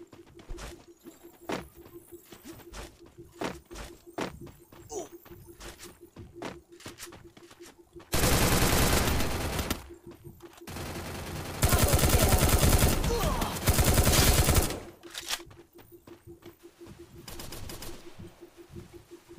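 Bursts of rapid gunfire from a weapon in the mobile battle game Free Fire during a Clash Squad match, with two long loud volleys at mid-clip between scattered shorter shots.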